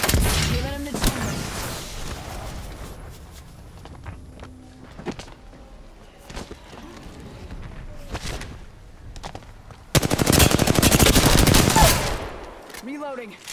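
Gunfire in the video game Apex Legends, sharp shots scattered through the clip with a dense, loud burst of rapid fire near the end, mixed with game ambience and occasional voice lines.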